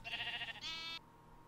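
A sheep in the video game Minecraft bleats twice in quick succession, a close, clear, wavering cry with no talking.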